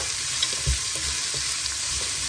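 Three or four onions sautéing in a pan for a cooker biryani make a dense, steady sizzle close by, broken by a few soft stirring knocks.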